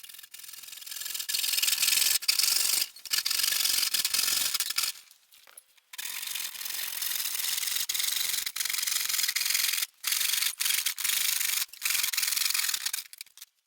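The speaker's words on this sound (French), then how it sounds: "j'ai décidé de m'en occuper avec une scie à main." Hand saw cutting through a thin 2 mm panel for a pallet-wood finishing cart, giving steady rasping strokes in long bursts with brief pauses between them, close and fairly loud, no talking.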